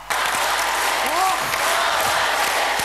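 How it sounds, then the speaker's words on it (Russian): A concert hall audience applauds in a standing ovation for a young singer, a steady, loud and dense wall of clapping with a few shouts rising briefly above it. "зал одаренному сочинцу еще несколько минут аплодировал стоя"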